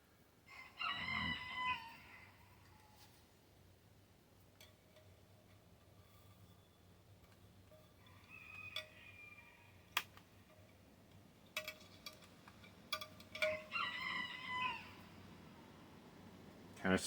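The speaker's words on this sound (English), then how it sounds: "This is the first time I'm hearing from the roosters this morning." Roosters crow in the morning outdoors in a garden, with several drawn-out calls at a moderate distance separated by quieter stretches and a few sharp ticks.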